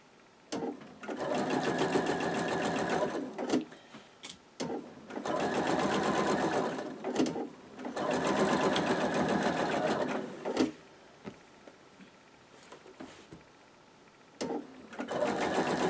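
A sewing machine stitches down quilt block pieces, running in steady close bursts of a few seconds each, separated by short pauses and a few soft clicks.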